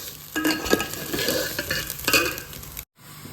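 Pulao being stirred with salt in a pot: close, busy scraping and clinking of a spoon against metal over a light sizzle, continuous for a few seconds before stopping abruptly, no talking.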